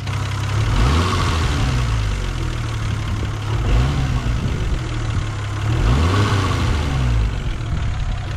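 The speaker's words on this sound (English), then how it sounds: "Let her idle down." Toyota 7M GTE engine idling, a steady close low rumble with a gently rising and falling pulse, continuous and loud with no voices.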